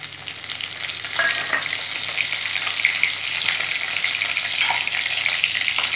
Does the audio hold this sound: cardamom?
yes